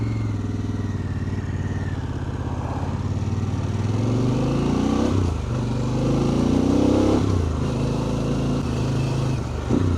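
A Harley-Davidson Pan America motorcycle out on a test ride, engine loud and close with a continuous throaty drone, rising through revs and gear changes, no talking.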